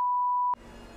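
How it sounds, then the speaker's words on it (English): A single clean electronic beep tone, marking an edit point, holds steady for about half a second, then cuts off abruptly into a low background noise. "Did a beep so I can cut that out."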